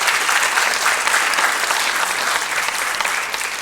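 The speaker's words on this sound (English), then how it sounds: "A round of applause," Audience applause at a Thunder Bay federal election debate, a dense burst of clapping that holds steady at full strength for a few seconds and eases slightly toward the end.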